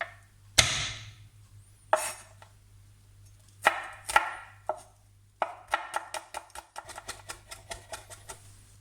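Sharp knife chops through fish on a board into medium pieces, a few spaced strikes followed by a quicker run of rhythmic chopping, close and clear with a faint hum beneath.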